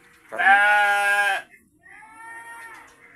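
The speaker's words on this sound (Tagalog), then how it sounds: "Kung tawagin to ay kambing. Parang ano to, imported na kambing." An imported goat at an eco park in Meycauyan bleats loudly and close, one long quavering call followed by a shorter, softer bleat.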